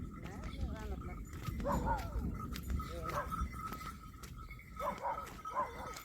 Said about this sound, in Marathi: या कुत्रे भुकायला लागले